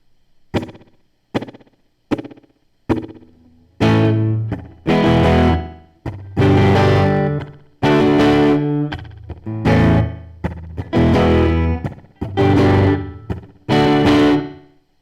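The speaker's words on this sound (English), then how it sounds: "I've now dialed down the delay time to almost minimum" Electric guitar through a Behringer DD600 digital delay at near-minimum delay time, playing short plucked notes then chords, with a tight slapback echo thickening each hit, loud and upfront, no talking.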